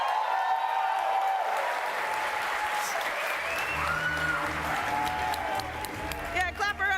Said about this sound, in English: Yeah, clap her up, clap her up.